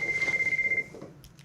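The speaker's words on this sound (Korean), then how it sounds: "스미모토에게 전화가 오는데" A telephone rings in a dramatic scene, giving a steady electronic trilling tone that stops partway through, leaving quieter background sound behind it.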